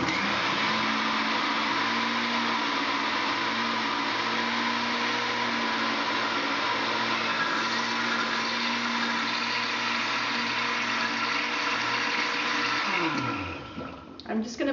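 A kitchen blender runs steadily for about thirteen seconds, whirring ginger salad dressing as oil is added to thicken it. The motor drone is loud and close, then winds down and stops with a few clunks at the end.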